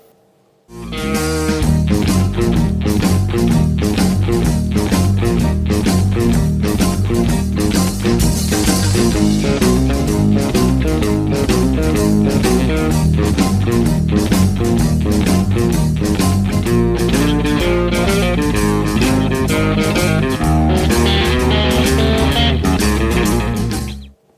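Electric blues guitar playing the next section of a blues song, a riff taken through the blues progression, continuous and full with a steady rhythmic pulse for the whole stretch, no voice over it.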